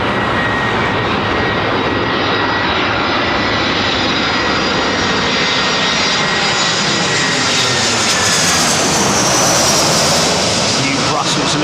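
An Airbus A380 jet comes in to land, its engines a loud, continuous roar with broadband rush and a faint whine, swelling slightly toward the end as it passes close; a voice talks over it.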